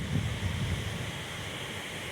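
A waterfall flows at Letchworth State Park in a steady, dense roar of falling water that stays even and close, with slightly stronger low rumble at the start and no voices.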